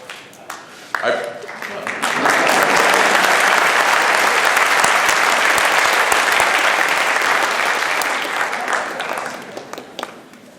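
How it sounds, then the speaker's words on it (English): Loud, sustained applause from a large university audience for Ban Ki-moon, swelling quickly and holding steady for several seconds before easing slightly. "he's going to get a whole lot of applause."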